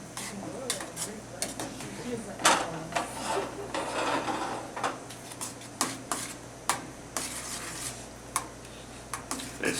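A spoon stirs melting cheese queso in a pot, giving steady, rhythmic scrapes and clinks against the metal, close and moderately loud, repeating about once a second over a faint background hum.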